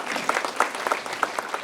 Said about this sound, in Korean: 우리 색소폰 해주신 분들께 다시 한번 박수 해주시면 감사하겠습니다.